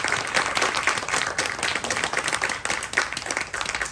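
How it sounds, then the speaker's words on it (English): Audience at a chamber of commerce candidate forum for a state house district seat claps for the candidates, loud and sustained, with dense overlapping hand claps throughout. "Please give our candidates a round of applause."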